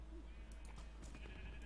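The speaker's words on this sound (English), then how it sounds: "Get out of here, sheep." A sheep in the video game Minecraft Dungeons gives a short, wavering bleat, faint and brief over game background sound.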